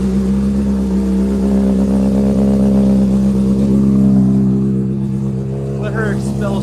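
A motorcycle engine idles and revs steadily, close and loud, as rainwater burns off the exhaust, with a continuous rumbling drone throughout.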